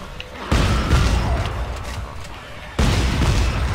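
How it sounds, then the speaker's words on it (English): Explosive barrel blasts in Dead Space 3, two heavy booming bursts at close range, each a sudden loud onset followed by a sustained low rumble, with a quieter stretch between them. "Don't shoot the explodey barrel"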